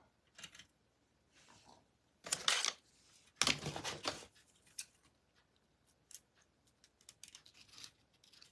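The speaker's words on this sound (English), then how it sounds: "Now I just need regular scissors." Regular scissors snip while a Victorian steampunk woman wall picture is being crafted, a few sharp close cuts in quick bursts separated by quiet pauses and small light handling clicks.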